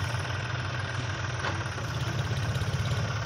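A tractor fitted with a cultivator idles steadily in a village, a continuous low, rumbling engine drone with a faint rhythmic knock and no talking.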